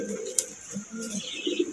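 A pair of black Sirazi pigeons coo softly in a loft. There are a few short, low throaty coos and a brief chirp, close by over faint background noise.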